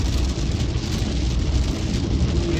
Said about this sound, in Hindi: कुल्लू के बाद जाके बरसात भयंकर आई है एकदम